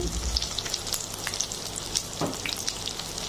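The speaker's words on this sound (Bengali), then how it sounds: "পরিমাণ মতো তেল, তারপরে কিউব করে কেটে রাখা পেঁয়াজগুলো এবং কিছু কাঁচামরিচ দিয়ে দিচ্ছি" Cubed onions, green chilies and capsicum frying in oil for a vegetable chow mein, a steady close sizzle with occasional spatula scrapes and stirs, no voices.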